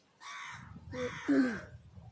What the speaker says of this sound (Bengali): মাথার উপর কাকগুলো এত জ্বালায়